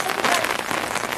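Rain pours down steadily on an outdoor street where a fish vendor sells door to door, a dense close patter throughout the short moment with no clear speech over it.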